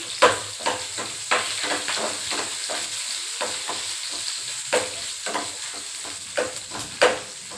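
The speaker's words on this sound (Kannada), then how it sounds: "ಈರುಳ್ಳಿನ ಲೋ ಫ್ಲೇಮಲ್ಲಿಟ್ಟು ಎರಡು ನಿಮಿಷ ಸ್ವಲ್ಪ ಬಣ್ಣ ಬದಲಾಗೋವರೆಗೂ ಬೇಯಿಸ್ಬೇಕು" Onions fry on a low flame for brinjal bele huli, with a loud steady sizzle broken by repeated stirring scrapes at an uneven rhythm close to the pan.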